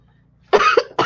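A person coughs twice, sharp and close, with a brief pause between the bursts after a quiet lead-in.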